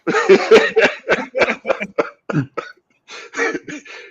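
A burst of repeated coughs, close and loud, in a quick ragged series with short pauses between them.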